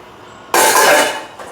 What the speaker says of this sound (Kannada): ಪ್ರತಿದಿನ ನಮ್ಮ ಯಜಮಾನ್ರೇ ಪಾತ್ರೆ ತೊಳಿತಾ ಇದ್ದಾರೆ